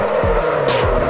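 A car drifts in the Assetto Corsa racing game, engine droning loudly while tires squeal and skid in short bursts, close and continuous.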